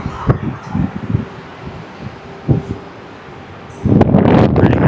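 Gusty wind buffeting the microphone on the upper deck of a cruise ship near the sports court, rustling in bursts and then roaring louder near the end, with a few soft thumps.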